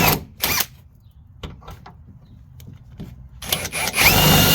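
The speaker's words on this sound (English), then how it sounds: "we're gonna drill these holes out first" Short bursts of a power drill whirring as it drills rivet holes in a snowmobile chassis, separated by quiet pauses and light handling clatter, ending with a longer, louder drilling run.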